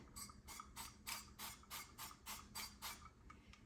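The pump on a glass oil sprayer bottle squirts in a rapid series of about a dozen short, even sprays, close and fairly quiet.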